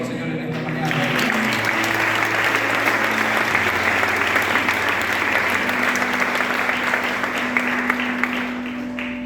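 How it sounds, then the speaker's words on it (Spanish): A church congregation applauds steadily through a morning service, sustained dense clapping from many hands, with held organ or keyboard tones underneath. "Un aplauso al Señor en esta mañana."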